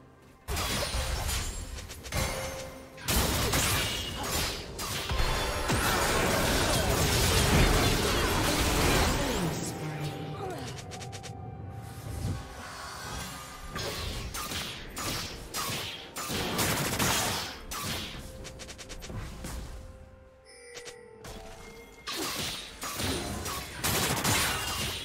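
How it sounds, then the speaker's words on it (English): Chaotic League of Legends top-lane fighting as a turret is destroyed: bursts of crashing, shattering and popping effects in rapid clusters, loud, with brief pauses and a short announcer voice. "Blue team's turret has been destroyed."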